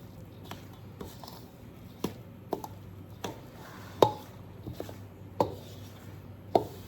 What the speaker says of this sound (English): I'm just gonna mix this around with a spoon to start with